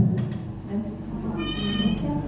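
A cat gives a single short, tonal meow near the middle of the clip, standing out over a steady low background hum.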